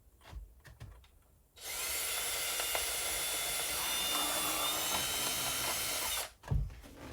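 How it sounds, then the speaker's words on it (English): A power drill boring a hole in wood while building a chicken feeder, a loud steady whine running about four and a half seconds after a few quiet handling clicks, then cutting off into a thump. "I'm just going to drill a hole."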